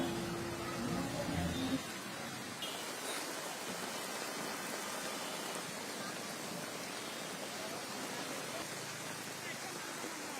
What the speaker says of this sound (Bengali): এত বৃষ্টি আপনি দেখেন